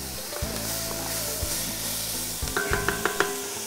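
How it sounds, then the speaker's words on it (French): Onions sweat and sizzle in a pot for osso buco alla milanese, a steady frying hiss with a low hum underneath and a few sharp clinks near the end. "Dans la même marmite, je fais revenir mes oignons. Je les fais suer, comme on dit,"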